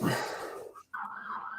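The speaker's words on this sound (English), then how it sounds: "Excuse the siren." A siren wails in rising and falling tones, broken by a brief gap before resuming, moderately loud and fairly close.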